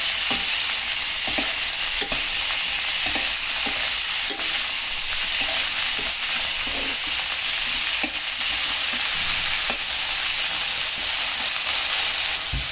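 Cauliflower pieces fry in a pan with a loud, steady sizzle, while a spoon stirs and scrapes them at a regular, repeated pace throughout.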